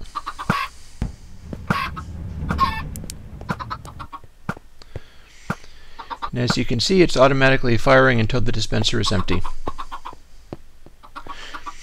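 Baby chickens in a video game cluck in a busy run of short, bright chirps as a dispenser fires them out automatically, with someone talking over them and quieter game clicks before and after.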